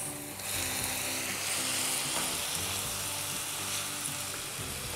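Tomatoes frying in a pan for a sauce give a loud, steady close sizzle with faint clicking and stirring underneath, with no talking throughout.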